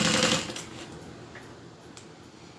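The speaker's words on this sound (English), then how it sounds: "now I'm just going to open the vinyl seam and just sew that flat" Sewing machine stitching a flat seam on a vinyl handbag, a brief busy mechanical whir at the start that fades into quiet room noise with a small click at the end.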